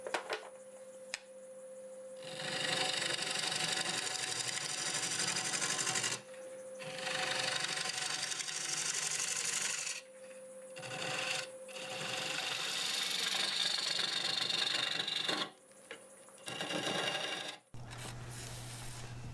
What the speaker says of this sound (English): I'll use this hollowing tool to get back in here and get some of that stock out.